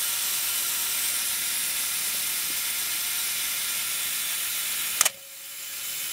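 A Canon FTb film camera's mechanical self-timer buzzes in a steady whirring run for about five seconds, ending in a sharp shutter click and a brief clatter, close and alone.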